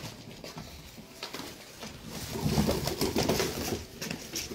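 Soft pigeon cooing in a loose, repeating rhythm at a pigeon loft in Gujrat, with faint rustling and fluttering around it and no talking.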